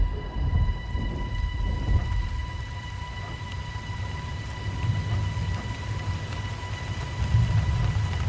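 Steady rain falls through a thunderstorm with low rolling rumbles of thunder swelling at intervals, continuous and fairly close, with no voices.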